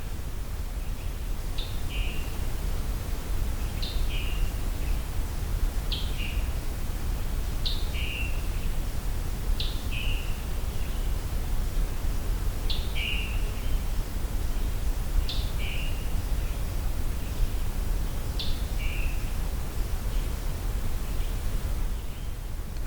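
Repeated two-note bird call near Hickory Creek, a sharp high chirp followed by a lower slurred note, sounding about every two seconds over a steady hiss of background noise.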